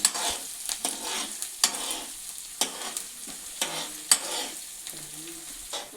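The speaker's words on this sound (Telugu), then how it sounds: "ఇది మనం కొంతసేపు తిప్పుకోవాలి" Food frying in a pan while being stirred, a close sizzle broken by repeated scraping strokes of a spoon at an uneven rhythm, with no voices.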